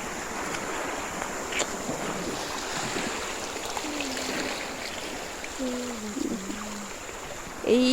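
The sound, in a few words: small sea waves at the shore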